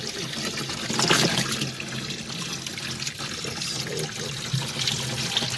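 Water flows steadily where fish are being caught, running continuously through the whole stretch with a brief surge of splashing, while a person speaks at moments over it.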